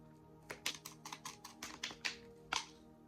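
Close, quiet riffling and tapping of a deck of cards being shuffled back together during a card reading, a quick run of crisp flicks with a final snap, no talking.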